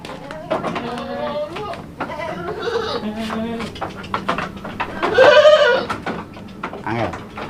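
Goats bleat repeatedly at a livestock farm, their wavering cries rising loud near the middle, mixed with people chatting nearby.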